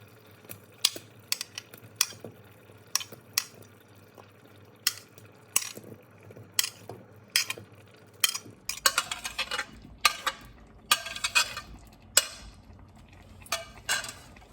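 Dum aloo, shallow-fried potatoes, being stirred in a pressure cooker, with sharp scraping and clinking of a metal spoon against the pot at an irregular pace, getting busier and more clattery in the second half.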